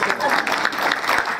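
An audience at a tribute ceremony claps in a brief, dense burst of applause, with voices faintly mixed in.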